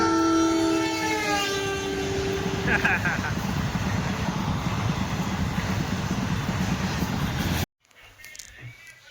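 A train rolls past close by with a long sustained horn blast at the start, followed by a loud rumbling clatter of wagons that stops abruptly, leaving faint background noise.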